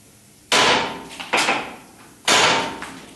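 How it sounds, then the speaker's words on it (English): Hammer blows knocking out the steering ram on a 1976 Corvette, three loud close metallic strikes spaced about a second apart, each ringing briefly. "deform that with the blow of the hammer, it loosens it up and it'll pop out."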